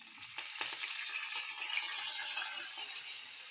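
Curry leaves sizzle and crackle in a hot oil tempering with cumin seeds, a steady bright hiss close by with no voices.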